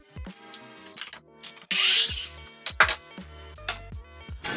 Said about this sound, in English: So I'm basically cutting it to length and then ripping it to the